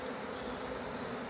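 A honey bee swarm buzzes steadily around a tree, a dense, even drone of many bees flying and circling close by for just over a second.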